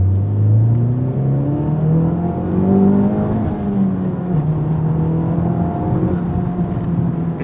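A Honda Civic Type R with its 2-liter turbo engine accelerating hard, engine note climbing steadily through the gears with a brief dip at a shift, loud and close from inside the car.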